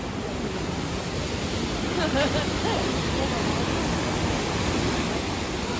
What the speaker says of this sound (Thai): นี่เลยก็จะเป็นน้ำตกวิวสือ จะมีน้ำตกสองสายมา บรรจบกันเป็นหนึ่งสายตรงนี้